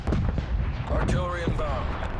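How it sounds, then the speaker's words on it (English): Artillery strike in Call of Duty Cold War, heavy continuous booming and rumbling explosions filling the short span, with a voice talking over the blasts. "Artillery targeting detected."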